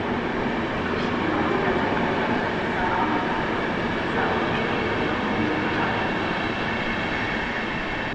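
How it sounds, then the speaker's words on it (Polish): The Podlasiak passenger train rolls into Świnoujście station with a continuous broad rumble and faint wheel clatter, steady and moderately loud throughout. "Wjeżdża pociąg Podlasiak do stacji Świnoujście"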